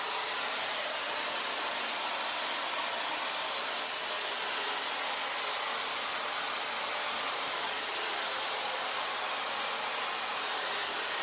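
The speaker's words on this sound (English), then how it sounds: "If your diffuser is on high and it's blowing the hair around a lot, then you definitely got to set it lower." Hair dryer fitted with a diffuser blows steadily on curly hair during a layered bob cut, a continuous broadband whoosh of airflow that stays even and close throughout with no talk.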